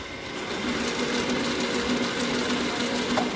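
A lathe's gear train runs steadily at close range, giving a continuous mechanical whir with a constant low hum and no pauses; no one speaks.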